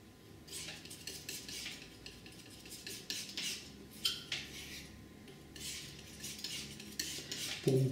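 Brush stirring burnt sienna and magenta paint together on a palette, giving soft scraping, clinking strokes that rise and fall at close range, with no voices.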